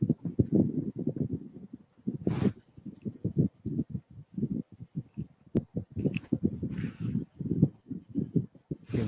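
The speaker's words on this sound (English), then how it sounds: "I can hear you like scratching, John." Pencil scratching on paper during a sketch session, quiet close strokes in quick irregular bursts with short pauses between lines.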